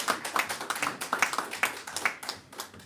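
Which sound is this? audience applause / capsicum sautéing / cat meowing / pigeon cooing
audience applause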